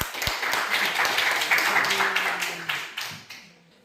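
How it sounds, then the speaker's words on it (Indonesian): Classroom applause for a student group in an Indonesian school lesson, a dense patter of claps that fades out toward the end, with voices faintly mixed in. "kita berikan aplaus untuk kelompok 2"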